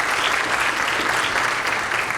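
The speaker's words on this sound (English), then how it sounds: "I hope that you could all give them a round of applause because they deserve it." Dense, even applause from a symposium audience thanking the event sponsors at a multiple sclerosis meeting; loud, continuous clapping from many people filling the whole stretch without a break.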